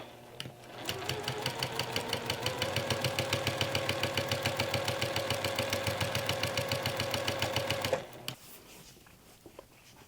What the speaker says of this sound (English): And we're going to start stitching.